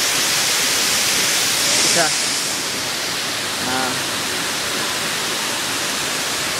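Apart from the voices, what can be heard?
waterfall, Flying Falls in Antipolo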